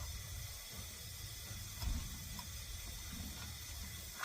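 Water runs steadily from a tap to fill a container for making coffee, a soft continuous flow with a faint hiss, quiet and close, with no talking.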